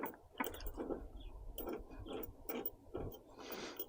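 A half-inch wrench tightening a nut on a Decked Cargo Glide installed in a 2021 Dodge Ram 1500, giving a close run of rhythmic ratcheting clicks and metallic ticks in quick succession without talk.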